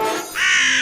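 A crow caws in a cartoon, giving a single close, loud, harsh call that rises in pitch and holds as a drawn-out caw.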